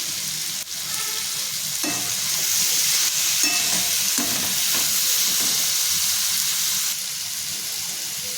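Vegetables sautéing in oil in a home kitchen, a steady bright sizzle with occasional scrapes and knocks of a spoon stirring the pan, continuous and close.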